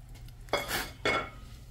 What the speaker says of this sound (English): Now what I'm going to do is I'm going to pull these taters